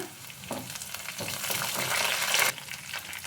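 Curry leaves sizzle and crackle in hot oil in a pan, tempering for beetroot palya, a close, bright spitting hiss with a few sharper pops.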